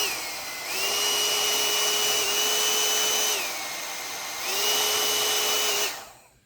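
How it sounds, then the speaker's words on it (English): A small hot air brush hair dryer whirs steadily, switching between two speeds so the motor pitch drops and rises, then cuts off at the end. "it's essentially a hair dryer. You've got 3 settings."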